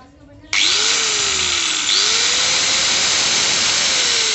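A Stanley STGS 5100 4-inch angle grinder is switched on after a moment of quiet. It spins up to a loud, close, steady hissing whine, dips briefly and then recovers to full speed.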